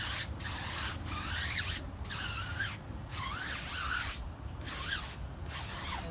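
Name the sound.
stiff-bristled wheel cleaning brush scrubbing Maserati rim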